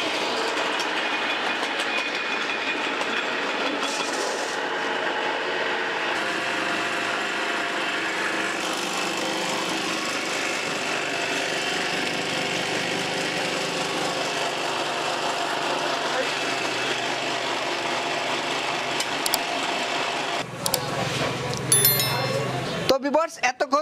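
A feed pellet making machine for duck, chicken, fish and cattle feed runs steadily with a loud continuous mechanical rumble and rattling whine, close up, ending in a few clanks as it changes.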